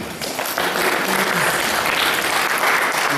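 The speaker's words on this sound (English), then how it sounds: "give yourselves a hearty round of applause for your great participation" A workshop audience at a retreat claps in steady, dense applause that carries on throughout, close and fairly loud.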